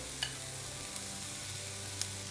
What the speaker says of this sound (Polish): Patelnia już jest nagrzana. To rzucamy cebulę.